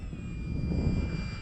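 A Durafly Tundra RC airplane flies in gusty wind, its motor giving a steady buzzing drone with a low rumbling wind buffet underneath, fairly close and loud throughout.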